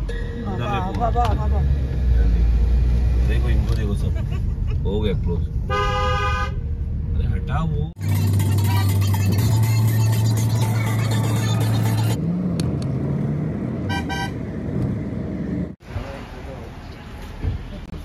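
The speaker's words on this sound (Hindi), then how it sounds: "सब तो यहाँ से जा रही गाड़ी जा रहा है" Cars and vehicles pass along a rough, badly damaged shortcut road on a road trip leaving Goa, with horns tooting and engines revving close by while people talk throughout.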